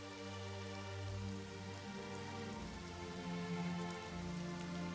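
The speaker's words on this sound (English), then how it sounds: "It sucks that it's raining" Steady rain falls across a battlefield in the WWII strategy game Strategic Mind Blitzkrieg, a dense continuous hiss layered over a low droning music bed, with no voices.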